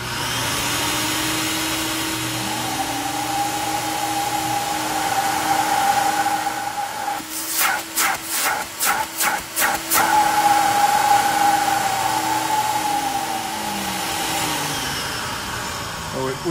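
A multi-motor floor vacuum, the American Sanders AVAC-26 with three vac motors, roars loudly and steadily, its pitch rising as the motors start in stages, with a brief choppy fluttering midway.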